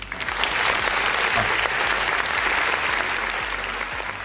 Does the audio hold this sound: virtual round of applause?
yes